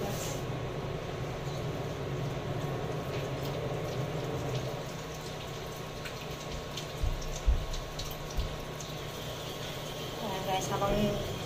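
Tomatoes are washed under running water in a home kitchen, a steady close trickle and splash with low mechanical hum underneath and a few bumps of handling.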